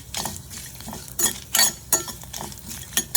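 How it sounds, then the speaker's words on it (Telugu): Cashews and two green chilies fry in a pan for paneer butter masala, a soft sizzle with a spoon stirring and clinking against the metal several times, close and with no talk. "కొన్ని జీడిపప్పు, 2 పచ్చిమిరపకాయలు, ఇవి కూడా ఫ్రై చేసుకోవాలి"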